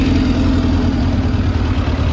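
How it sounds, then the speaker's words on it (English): Suzuki Katana 750 motorcycle engine with a carbureted four-cylinder and Yoshimura aftermarket exhaust, running at a steady, loud idle throughout, close by with no talk. "Aftermarket Yoshimura exhaust. Great sound."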